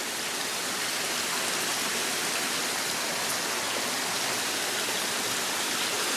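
Dense, even roar of a waterfall and clear stream water pouring continuously, loud and close with no breaks and no voices.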